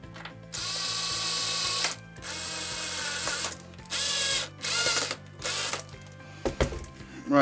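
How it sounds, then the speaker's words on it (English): Parts of a workshop build are screwed together with a power driver, several bursts of ratcheting, whirring mechanical sound separated by short pauses, close and fairly loud. "And we'll screw it all together."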